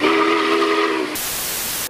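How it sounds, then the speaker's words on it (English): Union Pacific 3985 steam locomotive whistle blows one loud, sustained chord for about a second, then cuts to a rushing hiss of steam that trails off. "Steam engines have whistles that sound like this."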